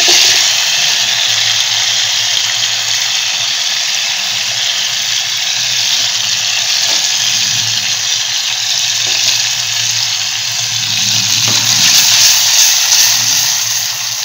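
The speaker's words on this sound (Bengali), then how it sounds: "দেখো পেঁয়াজগুলো ভাজা হয়ে গেল আর্ধেক" Chopped onions frying in hot oil in a kadai for dhaba-style kadai chicken, a steady, bright, close sizzle that holds evenly throughout with faint stirring scrapes.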